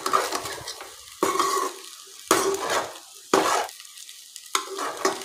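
Sabudana khichdi sizzles in a nonstick pan while being stirred in five distinct scraping strokes, each a burst of crackling fry noise that fades into quieter sizzle between passes, close and without talk.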